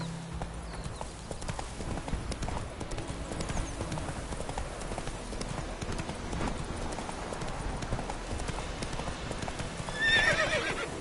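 Roach the horse gallops in The Witcher 3, a steady rapid drum of hoofbeats running throughout, with a short whinny near the end, moderately loud and with no talking.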